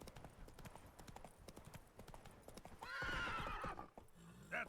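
Roach the horse's hooves drum in a quick galloping rhythm in Witcher 3: Blood and Wine, then a loud neigh rises near the end, all fairly faint and up close.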